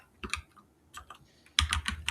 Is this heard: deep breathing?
no